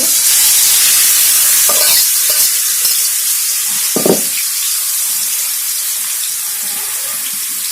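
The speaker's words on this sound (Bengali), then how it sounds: "আমরা গরম তেলে ভেজে নিচ্ছি।" Vegetables frying in hot oil for a vegetable curry, a loud close hiss of sizzling with a couple of louder stirring knocks midway, then fading slightly toward the end.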